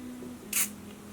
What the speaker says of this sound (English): I'm gonna spritz it.